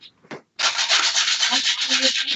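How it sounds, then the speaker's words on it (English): Sandpaper rubbed along an edge in a continuous, close, loud rasping stroke after a couple of brief scuffs, with no speech over it. "sorry for the sandpaper ASMR"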